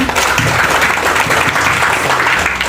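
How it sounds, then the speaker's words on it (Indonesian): Loud, steady applause from a group of high school students on a study tour, many hands clapping together densely and continuously throughout. "Tepuk tangan untuk kita semua."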